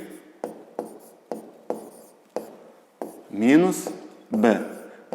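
A pen writes on paper in short separate bursts of scratchy strokes, each a brief stroke followed by a pause, close and fairly quiet, with a voice talking partway through.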